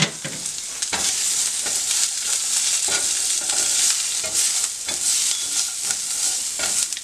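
A garlic clove fries and sizzles steadily in a pan for making Maxwell Street-style Polish sausage, with a close, continuous crackle and occasional stirring scrapes.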